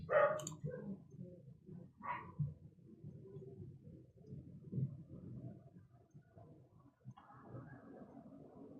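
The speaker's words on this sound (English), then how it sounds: "And there's the doorbell and the dogs." A dog barks a couple of times indoors at home, short faint bursts near the start and again about two seconds in, over a low steady background rumble.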